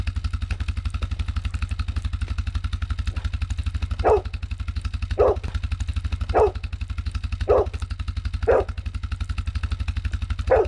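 A dog barks in deep snow, six evenly spaced barks of moderate loudness over the steady, loud drone of an idling ATV used for plowing.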